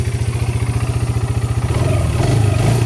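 A Yamaha Breeze 125 ATV engine idles close by with a loud, even thumping beat, then the throttle opens and the note rises into a rougher, fuller rev.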